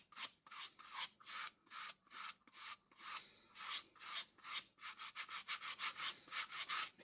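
Distress Oxide ink brushed onto paper with a small brush instead of a foam pad: close, dry, rhythmic scrubbing strokes in quick repeated bursts, steady and alone.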